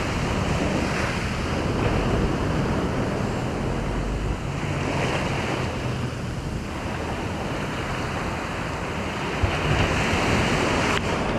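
Waves break and wash onto a beach where perch fishing is under way, a steady loud roar of surf with wind buffeting the microphone and no talk.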